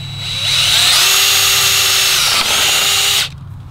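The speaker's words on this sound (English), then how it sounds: "it's a 5/16 drill bit to go ahead and drill this hole in the wire channel" A power drill with a 5/16 bit bores a hole through a wire channel. It is a loud, steady whine that ramps up, holds for nearly three seconds with a brief dip, then cuts off abruptly, with no talking.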